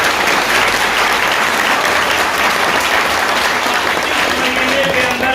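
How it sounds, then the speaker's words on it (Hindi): A loud audience claps in dense, sustained applause at a Hindi motivational success-story event. The clapping stays steady and close throughout. "जोरदार तालियां जरूर।"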